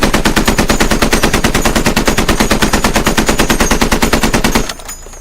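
Mounted machine gun firing in the video game Squad, a loud, steady stream of rapid shots for most of the clip, cutting off abruptly near the end to a quieter hum.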